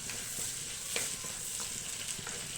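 Onions frying in oil in a pan for a spicy Thoothukudi-style fish curry, a steady close sizzle with occasional soft stirring scrapes throughout.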